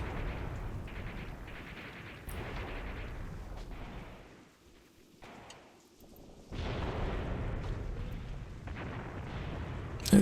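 Gunfire in the war game Graviteam Tactics: distant rumbling shots and blasts come in dense bursts, fade briefly in the middle, then return with heavy popping and a sharp crack at the end.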